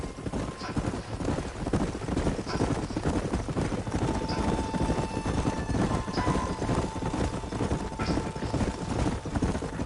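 Horses' hooves clop steadily at a trot in the video game Red Dead Redemption, over a constant low rumble of movement, with a faint whinny or mechanical ring now and then.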